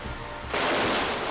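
Steady hiss of rain in the video game Sonic Robo Blast 2, swelling in halfway through into a dense, continuous wash that fills the rest of the short stretch.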